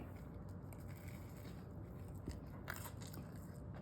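A close, crisp crunch of someone biting into a hard, crumbly baked biscuit, with small crackles of chewing afterward.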